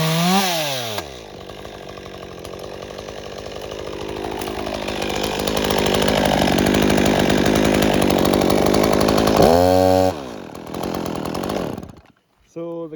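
A chainsaw with a faulty kill switch runs steadily at high revs for several seconds, starting and stopping with brief idle stutters, loud and close, with a voice heard briefly.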